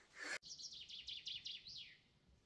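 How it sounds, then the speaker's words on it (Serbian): A small bird sings outdoors on a mountain in April, giving a short series of quick, bright repeated chirps that rise and fall, moderately near and clear against quiet surroundings. "Jako lepo pevaju ptičice."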